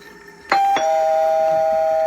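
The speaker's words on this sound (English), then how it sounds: "The doorbell rang" A doorbell rings once with two clear chime strikes, the second tone ringing on and sustaining steadily, close and alone with no voices.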